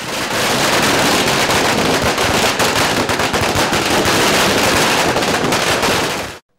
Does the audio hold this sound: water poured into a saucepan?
no